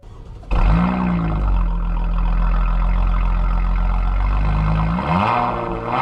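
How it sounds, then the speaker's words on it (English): Honda Passport TrailSport HRC concept with a performance HRC exhaust idling loud and close, a steady deep rumble that swells with two brief revs near the start and end, no talk over it. "we have a Performance HRC exhaust down there, which is extremely nice."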